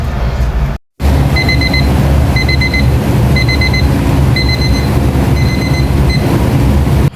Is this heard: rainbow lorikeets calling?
no